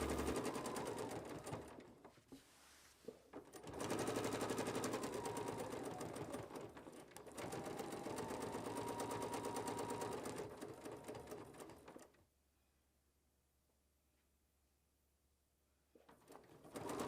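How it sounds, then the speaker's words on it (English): A sewing machine runs in long steady bursts, stopping briefly between runs and falling to near silence toward the end, as parallel lines are quilted with a ruler as a guide, stitching in the ditch. "Stitch in the ditch to get to the next line using the ruler as a guide"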